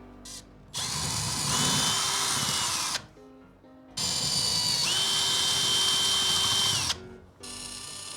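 A power drill whirs loudly in two long bursts of about three seconds each, revving up and winding down with a short pause between, drilling a hole to mount a large roller blind.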